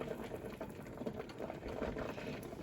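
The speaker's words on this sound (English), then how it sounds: "it's still boiling pretty good" A water bath boils hard in a pan of jars of homemade chocolate syrup, giving a steady, close bubbling and rumbling churn that runs unbroken throughout with no talk.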